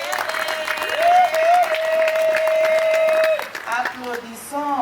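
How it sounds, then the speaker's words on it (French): Wedding guests at a civil marriage ceremony clap together in a steady, dense burst of applause, with a sustained electronic tone running through it and voices mixed in near the end. "Applaudissons lorsqu'on vous demande d'applaudir"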